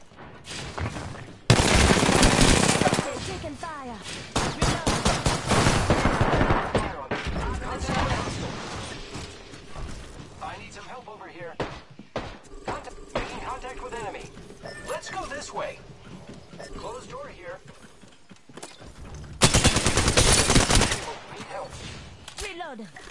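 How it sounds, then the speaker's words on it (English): Gunfire during enemy contact: sustained loud bursts of automatic fire near the start and again near the end, with mechanical clicks and rattling in the quieter stretch between and speech running over it. "Contact with enemy. Taking fire."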